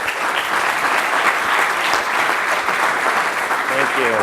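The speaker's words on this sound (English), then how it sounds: "So if we can get a round of applause for our opening keynote." Applause for the opening keynote at a sports-media talk event: dense, even clapping from a sizable audience, loud and sustained throughout without pause.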